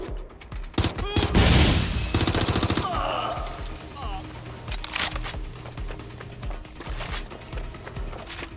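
Rapid automatic gunfire rattles in bursts during a Watch Dogs Legion shootout, loud at first and then continuing more sparsely amid game sounds and voices.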